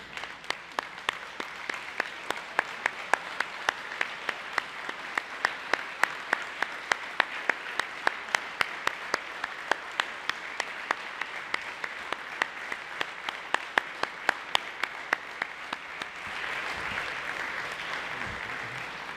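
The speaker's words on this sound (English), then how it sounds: "we can offer a round of applause" Sustained audience applause for retirees at a fire department honor wall reveal, a steady crowd of clapping hands with sharp individual claps standing out, running unbroken for nearly twenty seconds before thinning into a softer murmur at the end.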